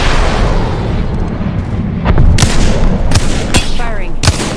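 Gunfire in Apex Legends, with booming shots and a few sharp cracks over a loud, dense rumble of battle noise, close and heavy, and no clear speech.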